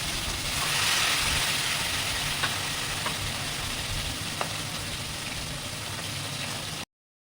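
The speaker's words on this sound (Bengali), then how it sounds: "এবার মাছগুলোকে আমরা দু সাইডে ভালো মতো ভেজে নেব, একদম গোল্ডেন ব্রাউন করে ভাজতে হবে" Fish frying in hot mustard oil in a kadai on a gas stove, a loud continuous sizzle and hiss with a few faint clicks, steady for about seven seconds before cutting off.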